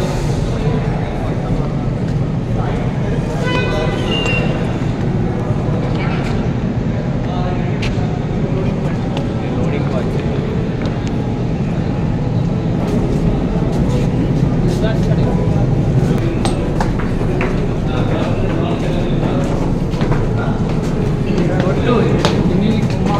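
A train rumbles past for the whole stretch, a steady loud mechanical roar with rattling and clanking, heard during a tour of a fertilizer plant.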